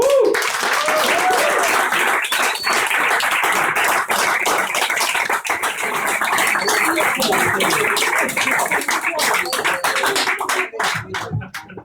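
An audience in a comedy lounge at the Edinburgh festival applauds an act, loud close clapping with whoops and cheers, sustained throughout and thinning out toward the end.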